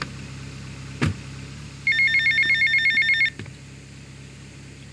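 A payphone rings in Grand Theft Auto: Vice City, one sustained burst of rapid electronic trilling lasting about a second and a half, loud and alone, with brief thuds before and after.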